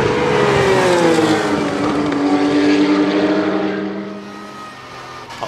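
Porsche race cars in a close battle at the Dijon-Prenois circuit, engines loud and near, one high revving note sweeping down as the cars pass, then fading slightly toward the end.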